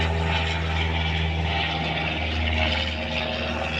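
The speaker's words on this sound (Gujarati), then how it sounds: "વિમાન તો નીકળા કરશે હવે આપણે જવું સીધા કરે એ તો માથેથી જ જાય છે" An airplane passes overhead near the Gopnath Mahadev temple, its steady propeller engine drone holding loud and even throughout, with low humming tones and no talking.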